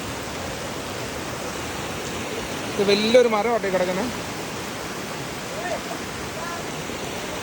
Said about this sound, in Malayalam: പുഴ ഒഴുകുന്നുണ്ട്